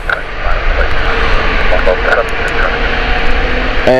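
An EasyJet airliner lining up on the runway at Gatwick Airport, its jet engines a loud, steady roar and whine that holds across the whole stretch.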